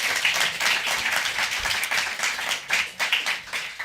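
Many hands clap in a steady, moderately close patter from an audience at the 2022 Southern California Poetry Festival, with some sharper claps sticking out of the wash.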